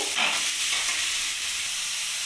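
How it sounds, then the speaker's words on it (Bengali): Grated cauliflower is fried in a wok with a loud, close, hissing sizzle that holds steady throughout, with faint stirring movement underneath. "ফুলকপিটা আমি কড়াইতে দিয়ে দিয়েছি এটাকে আমি ভালো করে এবার নাড়িয়ে নেব"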